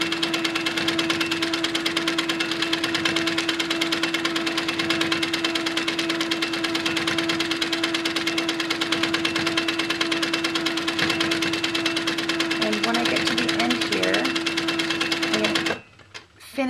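A sewing machine runs steadily, quilting a mini quilt from seam line to seam line across a piece of fabric, its close, continuous motor hum holding for about fifteen seconds before stopping abruptly near the end.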